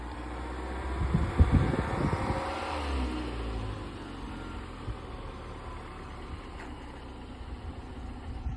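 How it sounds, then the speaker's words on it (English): A car engine revs briefly with low rumbling during a first driving lesson, then idles unevenly with a rough, sputtering drone and a steady fan-like hiss throughout. "It sounds like the engine's about to explode."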